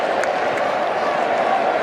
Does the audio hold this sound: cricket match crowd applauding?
yes